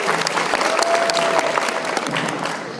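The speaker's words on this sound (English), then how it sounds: "Give them a round of applause very quickly," Dense, steady applause from a banquet crowd at a high school football awards dinner, many hands clapping close together at full volume, with a faint tonal hum running underneath and a few stray voices.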